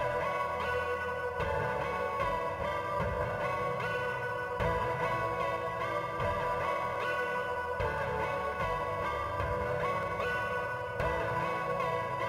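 Synthesizer melody from the Surge plugin in FL Studio, with portamento and effects, a bright bell-like tone playing a steady repeating phrase over a low throbbing bass pulse at an even, constant loudness.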